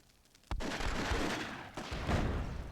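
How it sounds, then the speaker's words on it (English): A fire grenade going off in the Myth II Soulblighter strategy game, a sudden booming burst followed by a sustained crackling roar of flames, then a second flare-up of explosive noise. "Nice fire nade there from Kronjak."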